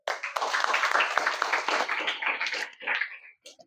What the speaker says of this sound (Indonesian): terima kasih. Tepuk tangannya, Kas.